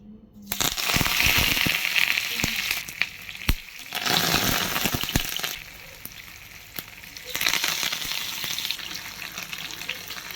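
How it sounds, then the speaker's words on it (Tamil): Marinated fish fries in sesame oil on a tava, a loud steady sizzle with crackles and occasional scraping or clinking, swelling and easing in waves over ten seconds with no talking. "நம்ம இப்போ தவாவில் வந்து நல்லெண்ணெய் விட்டு சாலை ஃப்ரை பண்ணிக்கலாம்"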